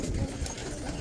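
Pigeons cooing close by at a pigeon loft, a short, low, soft burble under steady background noise.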